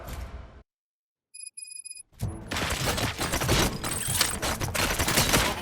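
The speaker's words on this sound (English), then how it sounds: "Gunshots? What's going on?" Gunfire in the video game RoboCop: Rogue City erupts after a short silence and a few electronic blips, then becomes a dense, loud fusillade of rapid overlapping shots that runs to the end.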